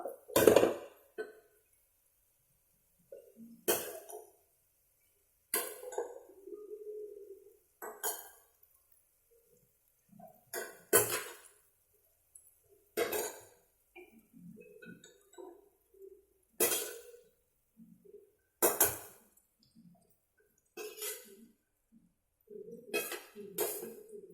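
Okra is stirred into a cooked tomato mixture in a pan, a utensil clinking and scraping against the metal in sparse, irregular taps with quiet pauses between.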